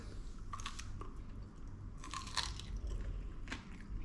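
A few sharp, crisp crunches of teeth biting into crispy ribs, close up, spaced irregularly against a low background hum.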